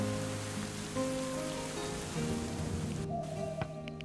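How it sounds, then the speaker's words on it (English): Steady rain hisses down across a medieval settlement in the Going Medieval video game, a dense, even patter that holds for the full few seconds beneath soft sustained musical tones, with no voices. "Another rainy day in Caledonia."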